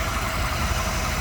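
Restored 1957 Ford Thunderbird V8 idling with the hood open, a steady, loud, close low rumble with even pulsing and no talk over it.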